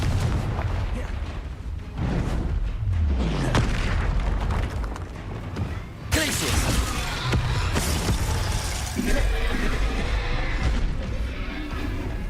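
Loud fiery spell blasts from the Hogwarts Legacy video game, repeated booming bursts and crackling explosions layered over a dense, continuous battle din with no pauses.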